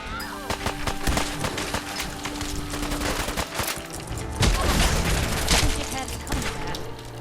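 Rapid gunfire in the video game Fallout 4, with continuous dense bursts of shots and booms filling the whole stretch, loud and close.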